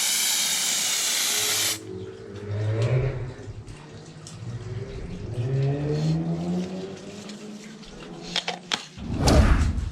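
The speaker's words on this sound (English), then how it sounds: "I'm just going to spray it on as soon as it's laid down onto the water surface" Activator sprays from a can onto hydrodipping film floating on water: a loud, steady hiss lasting under two seconds that cuts off abruptly, followed by quieter handling and splashing noises.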